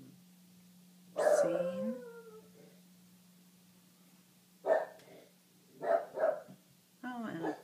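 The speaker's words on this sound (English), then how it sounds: "a lovely barking dog in the background" A dog barks a few times in the background, short bursts spread across the clip, with a person talking and a steady hum underneath.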